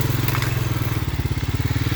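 A four-wheeler engine throbs with a steady pulsing rhythm close by as it pushes through a dense wall of trees, with some brushing and cracking of branches over the engine noise.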